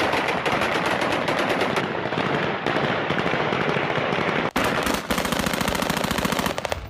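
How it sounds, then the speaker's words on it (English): Automatic weapons fire at Kabul airport: loud, sustained bursts of rapid gunshots crackling almost without pause, with one brief break midway before the firing resumes just as densely. "Opening fire from automatic weapons after storming the airport."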